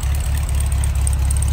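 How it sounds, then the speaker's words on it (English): A 1966 Volkswagen Beetle engine running smoothly, a steady low air-cooled idle rumble with an even throb, close and loud, with no talking over it. "just let you hear it run. That iconic VW sound."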